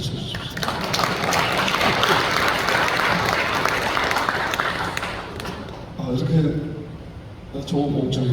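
An audience at a church assembly breaks into dense, sustained applause for several seconds. It then thins out, and a voice speaks over scattered claps near the end.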